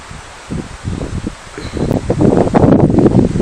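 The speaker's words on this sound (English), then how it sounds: "Can you hear that wind?" Gusty wind sweeping through a garden, rustling leaves and buffeting the microphone, quiet at first then building to a loud, steady roar.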